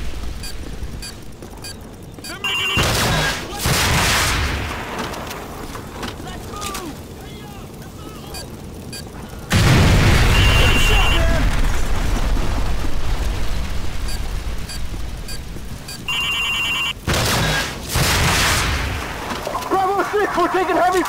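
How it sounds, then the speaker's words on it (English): Heavy gunfire and explosions rage in the Call of Duty: Modern Warfare mission The Bog, with loud bursts and booming blasts layered over continuous battle noise and shouted voices. "we're taking heavy fire on our position north of the overpass!"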